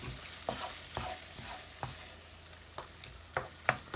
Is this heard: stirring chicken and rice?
yes